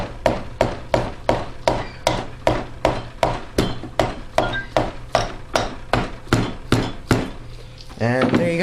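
Steady hammer blows drive a part down on a 3.5 HP Tecumseh lawnmower engine during a rebuild, about sixteen sharp metallic strikes at an even rhythm, close and loud, with a brief voice at the end.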